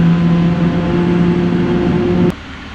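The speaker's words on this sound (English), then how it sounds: "That's the sound of a 777 engine, right?" Boeing 777F jet engine on a Lufthansa Cargo freighter, heard from the cockpit as a loud, steady low growl with a sustained hum, dropping abruptly in level near the end.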